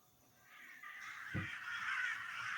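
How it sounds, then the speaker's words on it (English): A raven sound effect from Syrinscape gives a single rough caw over a rising airy wind-like ambience, short and moderately loud. "I have a raven."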